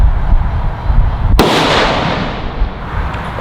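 A single unsuppressed gunshot at a shooting range: one loud, sharp crack followed by a long decaying echo over low background rumble.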